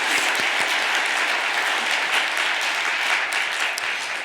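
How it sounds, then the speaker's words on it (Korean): A congregation at an overnight church prayer vigil claps for the mothers and fathers present, a dense, continuous burst of many hands at steady loudness. "여기 계신 엄마 아빠들에게 한번 박수 한번 보내주시면 좋겠습니다."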